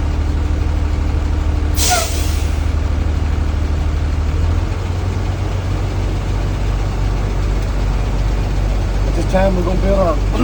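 A bus air brake system building pressure while the engine idles with a steady low rumble, marked by a sharp hiss of released air early on.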